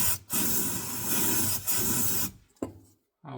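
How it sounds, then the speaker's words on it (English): Brake cleaner sprayed around the drain plug area of an Audi A4/A5 B9 rear differential: two loud, sustained aerosol hisses with a short break between them, then a brief burst before the sound trails off. "I will spread a little bit with a brake cleaner"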